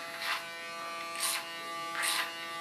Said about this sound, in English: Start with a clipper cut